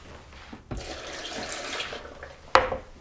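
Water is poured into a blender for a green smoothie: a short splashing pour that swells for a couple of seconds, then a brief sharper splash near the end, fairly quiet and close.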